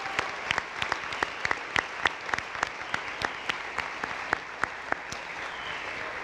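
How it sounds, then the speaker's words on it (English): Scattered applause at a youth recognition ceremony for a group of nominees, a small number of sharp, distinct hand claps in an uneven rhythm, fairly faint and without voices. "Can I get a big round of applause for this group of nominees?"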